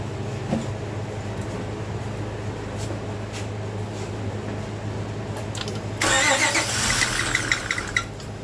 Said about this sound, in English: So let's keep on trying to start it.